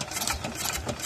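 An engine in a wheat field runs with a rapid, rough mechanical chatter and pulsing rattle, heard close and loud over a short burst.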